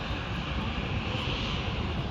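A loud, steady roar of an airplane engine at London City Airport fills the short stretch without a break.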